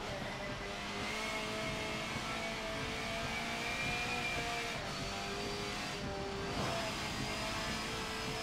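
A front-wheel-drive car held at full throttle in Forza Motorsport 7 during a wet race, its engine a sustained, moderately loud drone whose pitch climbs and briefly drops between gear changes.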